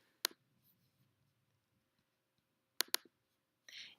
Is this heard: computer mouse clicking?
yes